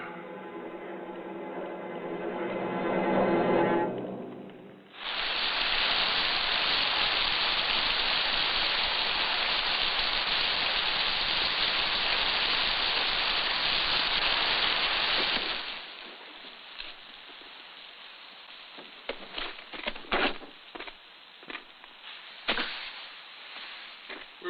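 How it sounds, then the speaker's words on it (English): Steady rainfall pours down in a loud, even hiss for about ten seconds, then cuts off abruptly, leaving sparse dripping and scattered splashes; no voices are heard. "You wait here until the rain stops."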